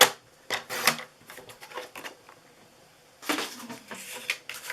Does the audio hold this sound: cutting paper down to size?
yes